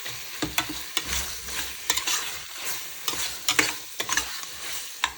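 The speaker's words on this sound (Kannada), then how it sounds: "ಟೊಮೊಟೊ ಹಾಕ್ಕೊಂಡು ಚೆನ್ನಾಗಿ ಮತ್ತೆ ಫ್ರೈ ಮಾಡ್ಕೋಬೇಕಾಗುತ್ತೆ." Tomatoes frying with ginger-garlic-chilli paste for chicken biryani, a steady sizzle broken by repeated scraping stirs of a spoon against the pan, fairly quiet and close, with no voice.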